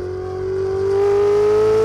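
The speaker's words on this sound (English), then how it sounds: "twin-turbo flat-plane crank V8, with turbochargers that can spool up more quickly and to higher speeds" A Ferrari Roma's twin-turbo flat-plane crank V8 climbs in pitch as it revs, a smooth rising engine tone that grows louder over the short stretch with no voices.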